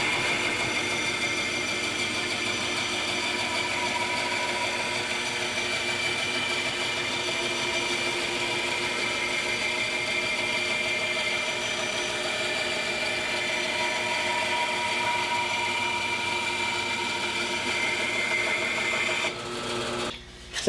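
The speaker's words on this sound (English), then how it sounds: "I continue cutting the cherry board at speeds of 40, 50, 60, 70, 80, 90, and 100 inches per minute." Bandsaw feeding through a cherry board at a fast 100 inches per minute, a steady, continuous rasping cut heard up close and alone for about twenty seconds, ending abruptly at the very end.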